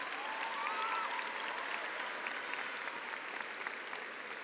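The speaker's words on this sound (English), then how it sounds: "I'd like for you to give a round of applause to your parents and all those friends" Graduating seniors at a high school graduation ceremony applaud their parents and supporters, a steady, faint wash of clapping from a large crowd.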